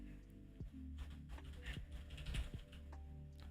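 Soft, uneven clicking of fingers typing on a computer keyboard, quiet and close, with irregular keystroke taps running steadily for a few seconds.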